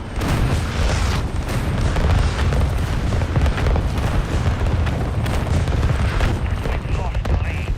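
Continuous booming explosions from an artillery strike in Modern Warfare multiplayer rumble loudly and densely throughout, with heavy low blasts and crackling debris and no clear break.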